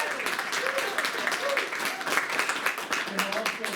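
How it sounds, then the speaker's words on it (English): Applause from an audience at an art collection event, a moderate, uneven patter of clapping with voices audible underneath. "So let's have a round of applause."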